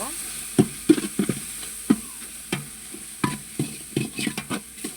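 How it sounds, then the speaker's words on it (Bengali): Turmeric and chili powder fry in a pan, stirred with a spoon that scrapes and taps in quick irregular strokes over a low sizzle, close and fairly loud. "হলুদের গুঁড়ো, মরিচের গুঁড়ো, এটা কাঁচা গন্ধ যেন চলে যায়, এই জন্য ভালো করে ভেজে নিব।"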